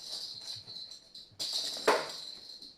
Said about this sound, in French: Ce bruit que vous entendez, ne prenez pas peur, c'est Tartine avec son grelot